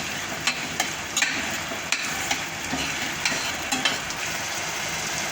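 Chopped tomato and onion stir-frying in a pan for a capsicum dish, a steady bright sizzle with scattered sharp scrapes and taps of a spatula against the pan, loud and close with no talk.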